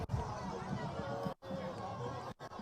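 Crowd at a presidential campaign rally in Brikama, The Gambia, cheering and chanting praises for the president, with a dense, loud hubbub of many voices and two brief dropouts.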